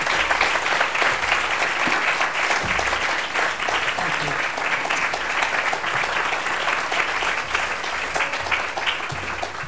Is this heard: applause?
yes